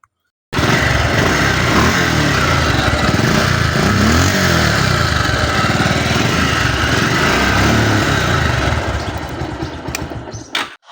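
A used motorcycle engine runs close and loud at a steady idle for about nine seconds, with a rough, throbbing drone that fades slightly before cutting off near the end.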